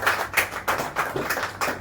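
Clapping from an audience at a network marketing training event as people are invited onto the stage, a short run of fairly close rhythmic claps.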